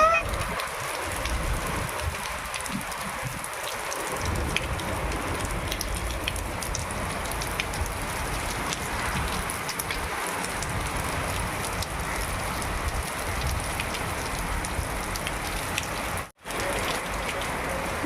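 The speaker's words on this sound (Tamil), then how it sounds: "ஆனால் மழை நல்லா ஜோன்னு பெய்யுது." Heavy rain pours steadily, a dense loud hiss that fills the whole stretch, with faint low rumbles early on and a brief dropout near the end.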